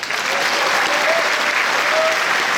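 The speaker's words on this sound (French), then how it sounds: "je vous demande d'applaudir les 3" A packed cinema audience at Le Grand Rex in Paris applauds a film premiere, a dense, steady roar of clapping that fills the hall without a break, loud and sustained throughout.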